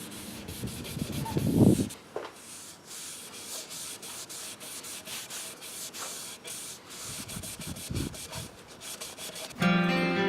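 A stained wooden axe handle is sanded by hand before a boiled linseed oil finish, with steady, close rasping strokes in bursts, a louder stretch near the start and a brisk rapid run at the end.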